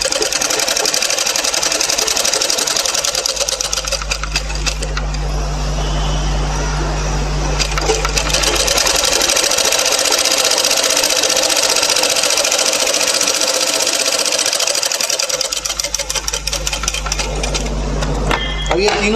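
Sewing machine stitching garment pieces together at the waist in a tailoring lesson, a rapid mechanical whirr running in long bursts with brief slowdowns, close and loud, with someone speaking softly beneath it.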